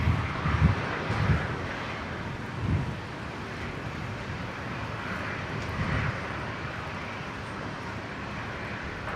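A jet airliner on its takeoff run at Brisbane International Airport, a steady broad roar of engines heard from a distance with wind buffeting the microphone, holding fairly constant throughout.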